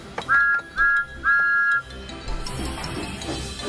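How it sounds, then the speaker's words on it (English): Three short, piercing toots come from the wonky steam whistle of Thomas the Tank Engine, each one wavering in pitch, followed by a hiss of steam and clanking machinery. "At the steamworks, Thomas waited for his wonky whistle to be fixed."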